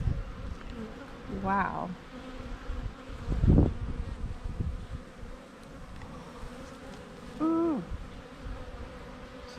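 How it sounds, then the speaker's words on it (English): A dense, steady hum of a honey bee swarm fills the air, with a brief exclamation from a person partway through. "There's a swarm of bees."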